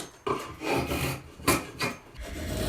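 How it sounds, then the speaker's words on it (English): Hand rasp shaping a wooden axe handle, giving repeated rough scraping strokes, close and fairly loud, with brief pauses between passes. "Handwork with the rasps, it's a lovely Oreo rasp."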